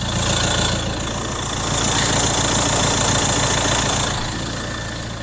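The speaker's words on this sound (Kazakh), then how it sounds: "Мотордун үнүн угуп турасыздарбы?" A diesel car engine idling close by, a loud, even rumble with a faint knocking clatter that swells slightly midway and then settles, with no voices over it.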